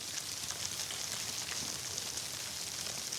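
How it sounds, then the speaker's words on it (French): Silkworms nibbling mulberry leaves indoors in a silkworm rearing house, a dense, steady crackling hiss much like rain on a surface, even and continuous throughout with no voices. "Le ver à soie, en fait, il ronge la feuille petit à petit, donc il va la grignoter. Donc, en fait, c'est ce grignotage qui fait du bruit."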